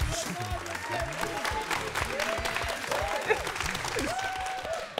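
A studio audience applauds steadily, clapping blending into a dense wash while a voice speaks over it.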